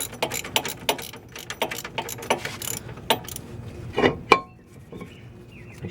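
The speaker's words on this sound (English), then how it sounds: "1/2 inch ratchet to tighten them down." A 1/2 inch ratchet tightening front brake bolts on a 2000 Jeep Grand Cherokee, quick bursts of sharp ratcheting clicks in a series of short strokes, close and loud, ending in a heavier clunk.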